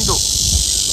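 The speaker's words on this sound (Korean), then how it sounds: "매미 소리도, 매미 소리" A steady, dense high-pitched cicada drone fills the air, with a brief low murmur near the start.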